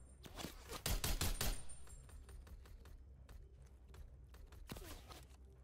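Rapid gunfire bursts in a video game gunfight, a dense volley of close shots early on, followed by scattered softer shots and footstep-like taps, with a final cluster of shots toward the end.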